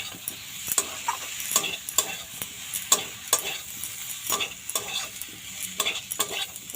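Potato curry (small-potato aloo dum) with fresh coriander leaves being stirred in a pan: repeated scraping strokes over a steady soft sizzle of frying, close and moderately loud, with no voices.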